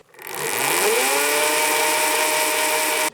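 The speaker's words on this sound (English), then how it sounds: "The chain runs over a rubber roller and slider just like a real moto. And it makes this whirring noise that you're hearing that builds with your speed." Yozma IN 10 Pro electric dirt bike whose chain runs over a rubber roller and slider, giving a steady, loud, close whir that rises quickly in pitch over the first half-second and holds for about three seconds.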